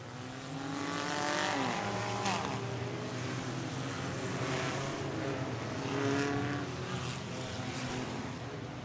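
A pack of race cars at an auto enduro race roars off the start together, a dense, sustained engine drone with rising pitch sweeps as they accelerate, steady and fairly loud throughout.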